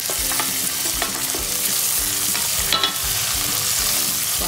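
Garlic, green chili and ginger fry in hot oil in a pan with cashew bits, a loud, close, continuous sizzle broken by occasional clinks and stirring scrapes.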